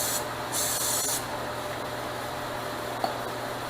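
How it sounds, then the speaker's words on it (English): PB Blaster penetrating oil hissing out of the vacuum hole of a rusted, seized Sea-Doo GTS 587 jet ski engine, two short loud spray bursts near the start, then a steady low background hiss with one small click. "It's blowing PB blaster at me out the vacuum hole."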